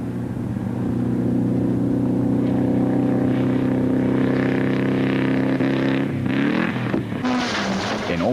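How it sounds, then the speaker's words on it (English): A rally car with a failing engine cruises through a stage, its steady droning engine loud and continuous, with a shift in tone and rising rev near the end. "he was cruising through the stage with a failing engine"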